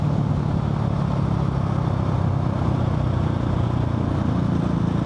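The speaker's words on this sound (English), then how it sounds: "I just want to play with the throttle all the time because there's so much torque behind this." Husqvarna 701 single-cylinder four-stroke motorcycle engine running close by, a steady loud low rumble that holds even throughout with no clear rise or fall of revs.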